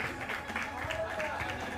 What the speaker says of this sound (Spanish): Un fuerte aplauso para este chico de Heretics.